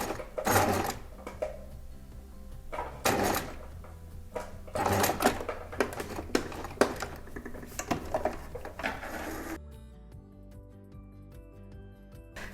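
A domestic sewing machine runs in several bursts of rapid, rattling stitching as it sews reverse over a topstitch on a sleeveless boat-neck top, then falls quiet, leaving a faint hum at the end.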